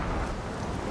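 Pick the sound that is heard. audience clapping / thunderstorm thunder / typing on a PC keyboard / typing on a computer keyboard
thunderstorm thunder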